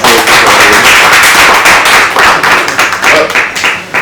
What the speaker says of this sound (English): So please just give them a round of applause in the team